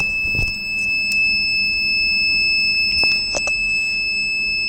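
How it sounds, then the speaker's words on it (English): A water quality monitoring system's buzzer sounds a steady electronic alarm tone continuously and fairly loud for pH and turbidity abnormality, with a few brief clicks and knocks in the background. "buzzer continuously on"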